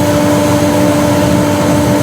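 A wood lathe spins at 1500 revs while a pen blank is sanded, giving a loud, steady hum with a constant tone and no pauses.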